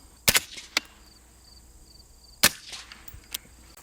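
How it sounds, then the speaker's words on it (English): Two rifle shots fired at a target, each a sharp close crack with a short echo, roughly two seconds apart, a few faint clicks and handling noises between them, no talking. "we'll go ahead and fire 2, so we have a group"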